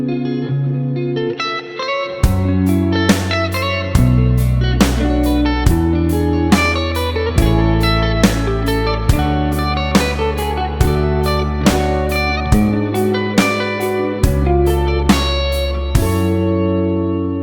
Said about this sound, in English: how to use the cycle of fourths to create really cool chord progressions that sound like this